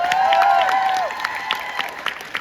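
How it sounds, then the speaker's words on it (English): Audience at a fan convention panel applauding, a dense clatter of clapping with a whistle or cheer at the start, thinning out after about a second. "Guys, put your hands together for Will Hockman back here in the back."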